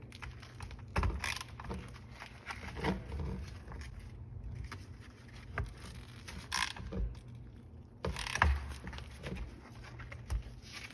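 A Milwaukee ratchet tightens dash plate bolts on a Yamaha YXZ, giving quiet bursts of rapid clicking in several separate runs with pauses between them, close by and faint.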